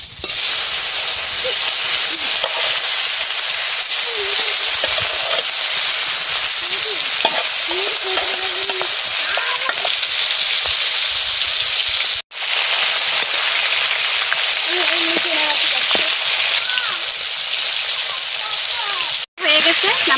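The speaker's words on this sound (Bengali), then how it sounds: "আমি মাছ ভাজা বসাই দিচ্ছি" Fish seasoned with turmeric and salt fries in oil in a wok, giving a loud, continuous close sizzle with dense spitting crackle, broken only by two brief dropouts.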